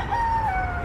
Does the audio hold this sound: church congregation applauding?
no